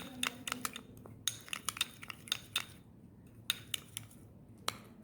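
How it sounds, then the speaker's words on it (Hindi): Quick, light clinks and scrapes of a spoon mixing coffee, raw milk and other ingredients in a small bowl, irregular taps in short clusters, close and fairly quiet with no talk. "अब हम इन तीनों इंग्रेडिएंट्स को बहुत अच्छे से मिक्स कर लेंगे।"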